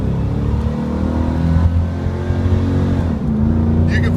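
A 1994 Pontiac Firebird Trans Am running on regular unleaded accelerates on the road, its engine droning and rising in pitch through a gear shift, heard from inside the car.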